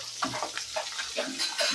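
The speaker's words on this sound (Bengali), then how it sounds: "হালকা করে ভেজে নিচ্ছি" Pabda fish sizzle lightly while frying in a pan, with soft crackling and occasional stirring scrapes at low, close volume.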